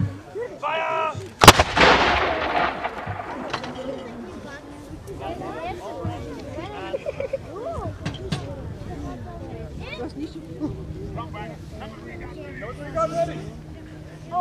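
British artillery crew firing a gun at Fort Liezele, one sharp, booming blast near the start followed by mechanical clanks, as commands are shouted throughout.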